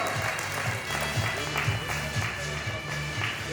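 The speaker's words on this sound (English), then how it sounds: "Let's clap for the man of God." An audience claps at the opening ceremony of a parish hall, with a steady, moderately loud, fairly even patter of hands. A voice can be heard under the clapping.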